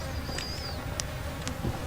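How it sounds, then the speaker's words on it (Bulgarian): Flies buzzing in the horror video game Outlast, a steady faint droning hum with a few brief whining passes overhead, heard without talk. "Добре, тук защо има толкова мухи?"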